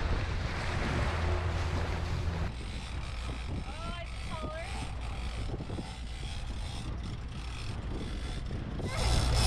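A fishing boat trolls slowly around a large cruise ship at sea, its motor droning steadily under loud wind buffeting and the wash of waves, with a few brief high chirps partway through.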